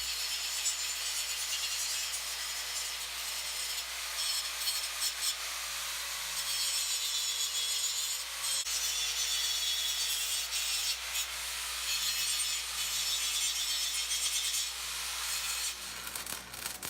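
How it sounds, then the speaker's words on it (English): Paint being scraped and abraded off a metal piece before chain hooks are welded on, a continuous loud rough rubbing grind held close up for the whole stretch with slight surges and no talking. "I need to clear this paint off of here so I can weld this on"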